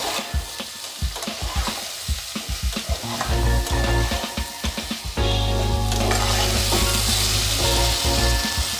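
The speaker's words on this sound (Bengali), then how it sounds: "গুঁড়ো হলুদ লবণ দিয়ে পেঁচা আলুটা ভালো করে ভেজে নিচ্ছি" Potatoes fry in a wok with turmeric and salt, sizzling steadily while a utensil stirs and scrapes in repeated strokes, the frying growing louder and denser in the second half.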